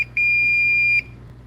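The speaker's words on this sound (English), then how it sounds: "You're gonna get a couple of beeps here." A single sustained electronic beep from a circuit breaker finder tool, loud and steady for nearly a second, preceded by a short blip, with a faint hum underneath.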